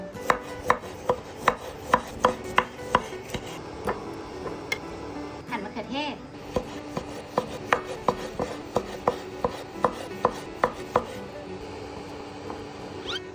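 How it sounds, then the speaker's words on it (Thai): Steady knife strikes slicing a lime on a cutting board, close up, in quick regular bursts with a short pause midway, alongside faint rubbing and handling noise. "หั่นมะนาว"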